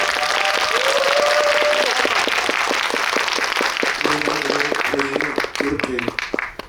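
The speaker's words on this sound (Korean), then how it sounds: "박수 부탁드립니다." Loud, dense applause from a cinema audience at a film talk event fills the space, dense clapping continuing steadily while a voice speaks over it near the end.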